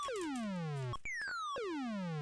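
Retro electronic beeps from the MechWarrior video game: a pair of clean, pure tones sweep downward in pitch, broken by a brief stuttering blip before the falling chirp repeats, steady and alone.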